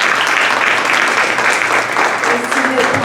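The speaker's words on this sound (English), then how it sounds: "So big round of applause." School district audience gives a steady round of applause for teacher grant winners, dense loud clapping that carries on without pause throughout, with faint voices mixed in toward the end.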